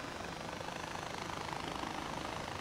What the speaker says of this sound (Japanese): やっぱヘリはいいですね